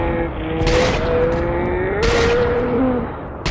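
Rapid bursts of AutoMag pistol fire from a Fallout 4 firefight, several sharp loud shots in quick succession at close range over a busy background of game combat noise.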